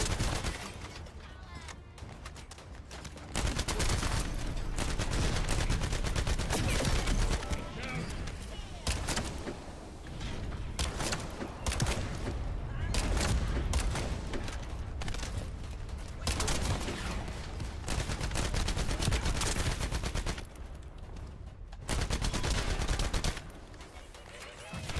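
Video game gunfire, including sniper rifle shots, crackles in repeated loud bursts and rapid volleys while a person talks over much of it.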